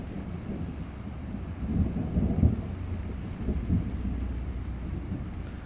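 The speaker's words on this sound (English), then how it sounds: "That was another rumble of thunder." Low thunder rumbles in the distance, swelling into a deeper roll midway before fading back into a soft, steady background hum.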